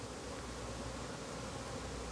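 Bees buzz in a soft, continuous drone around potted geraniums outdoors, faint and steady with no other sounds standing out.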